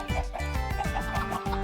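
Video-game chickens clucking in a farming game, a run of short repeated clucks and squawks in quick succession, close and clear, with a few pauses between bursts.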